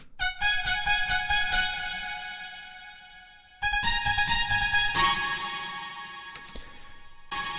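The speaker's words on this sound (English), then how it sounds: "we're going to add this huge reverb," A bright, tonal music loop drenched in a huge reverb, with sustained notes ringing and washing out between phrases, no voices.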